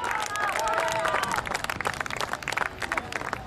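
Stadium crowd applauding and clapping during a women's 3000 m race at an evening walk and middle-distance athletics meeting, a dense continuous roar of claps and cheers with a voice talking over it.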